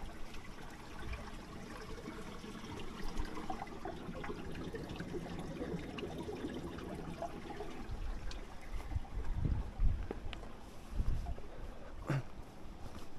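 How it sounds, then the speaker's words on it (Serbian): A stream murmurs and trickles beneath a mountain hiking path in Romania, a steady close wash of flowing water with a few louder splashes and soft thuds toward the end, and no talk. "evo sad ću da začutim da čujete kako žubori voda ispod."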